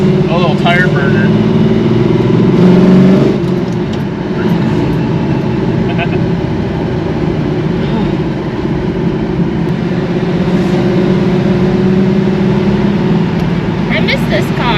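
A hot rod's engine runs as a loud, sustained rumble with a brief louder surge near the start, while people talk over it throughout.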